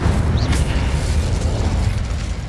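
Incendio fire spell cast in Hogwarts Legacy, a loud whooshing fiery burst with a heavy low rumble that holds steady for a couple of seconds.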